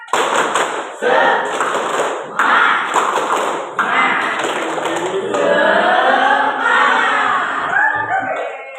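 Students doing a rhythmic clapping chant in an Indonesian school activity, with sharp patterned bursts of loud group claps and shouts, then a longer stretch of continuous clapping and crowd voices.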